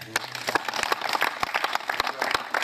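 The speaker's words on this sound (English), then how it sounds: "they will work with the principal and the school to give a big clap for that." Scattered hand clapping from an audience at a school scholarship ceremony, individual claps sharp and uneven rather than a dense roar, moderately loud and continuous.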